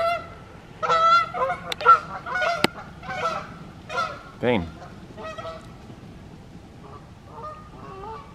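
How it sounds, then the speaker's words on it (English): Several geese honk in overlapping bursts at a lake, clear and fairly close, gradually thinning out; a voice speaks briefly in between. "Like 35 geese over there now."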